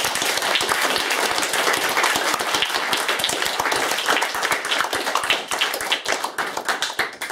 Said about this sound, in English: They just clapped.